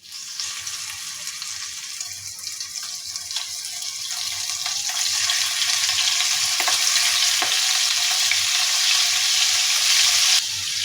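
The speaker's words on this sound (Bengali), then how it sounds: "তো বন্ধুরা আমার তেল গরম হয়ে গেছে আমি চিংড়িগুলোকে দিয়ে দিচ্ছি" Prawns hitting hot oil in a wok set off a loud, steady hiss and sizzle that swells after the first few seconds and stays dense and close throughout, with no voices.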